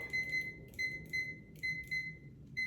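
A kitchen timer gives a series of bright, evenly pitched beeps in short pairs and groups over a steady low background hum, close and clear.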